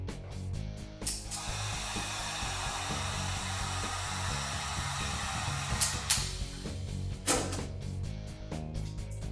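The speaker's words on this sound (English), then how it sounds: "it's important not to put the heat gun too close to the vinyl and to use a swaying motion left and right." A heat gun warms vinyl wrap on a Byrna launcher. Its steady airy roar runs close and loud, broken by brief clicks and short shifts in tone as the gun sweeps side to side.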